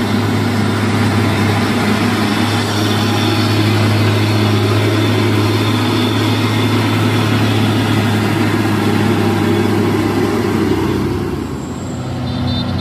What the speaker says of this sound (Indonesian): Ya, ada truk trailer ya,